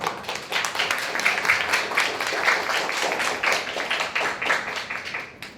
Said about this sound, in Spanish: un aplauso para ustedes, chicas, y la profesora